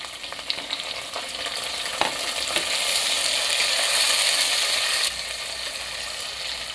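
Tomatoes dropped onto sautéed onion in a hot pan for a khichdi meal, giving a steady close sizzle with scraping, clicking stirs and a brief louder burst near the middle, no talking.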